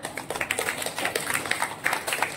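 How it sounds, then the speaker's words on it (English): School students at St. Luke's clap for a classmate in a classroom, a brisk scattered round of many hands at close range, steady throughout. "So please clap for him."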